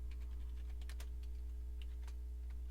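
Someone types a short entry on a computer keyboard, a quick run of light, close key clicks over a constant low electrical hum, with no talking.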